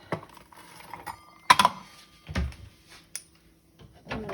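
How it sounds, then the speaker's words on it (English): A knife cuts a quesadilla into quarters on a cutting board, giving a few sharp taps and crunchy cuts with quiet pauses between them. "I'm gonna put this on my cutting board. I'm gonna cut it into pretty little quarters."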